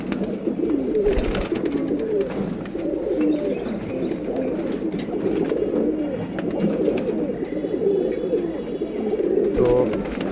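Pigeons coo steadily and close by while being fed, a continuous overlapping murmur of soft throaty calls.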